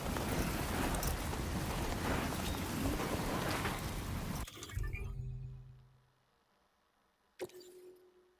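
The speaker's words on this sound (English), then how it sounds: "Storm's coming through." Thunderstorm in the Death Stranding 2 video game: heavy, dense rain roars loudly, then cuts off abruptly into a low rumbling thunder tail, followed by a single sharp crack later on, with no voices.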